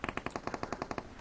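Rapid automatic gunfire in a video game, a tight burst of about fourteen sharp shots in steady rhythm, loud and close with no talk over it.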